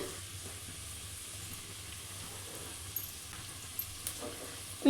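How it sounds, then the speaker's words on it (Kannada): Chopped onion frying in hot oil for egg keema, a steady soft sizzle and hiss that runs throughout, with a few brief clinks near the end. "ಇವಾಗ ಎಣ್ಣೆ ಕಾದಿದೆ ನಾವೇನು ಕಟ್ ಮಾಡಿ ಇಟ್ಕೊಂಡಿದ್ವಲ್ಲ ಈರುಳ್ಳಿ ಅದನ್ನು ಸೇರಿಸ್ಕೊತಾ ಇದ್ದೀನಿ"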